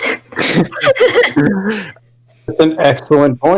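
A single sharp sneeze bursts out near the start, followed by people talking during a group tabletop role-playing game session.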